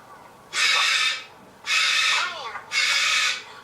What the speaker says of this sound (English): We think it's a blackbird.